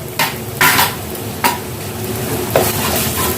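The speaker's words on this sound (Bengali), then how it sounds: "প্রথমে আমি পেঁয়াজটাকে ভেজে নিচ্ছি" Onions fry in a pan with a low steady sizzle, broken by a few sharp scraping stir strokes of a utensil against the pan spaced irregularly through the clip, with no talking.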